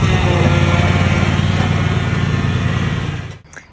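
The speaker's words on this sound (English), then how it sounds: "And Pup's moving the lawnmower." Lawn mower engine running steadily and fairly loud as it is pushed along, a continuous low drone that cuts off abruptly near the end.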